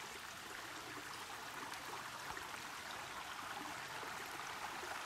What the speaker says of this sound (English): There's really really shallow river with a lot of rocks